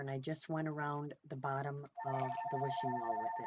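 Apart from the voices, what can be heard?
telephone ringing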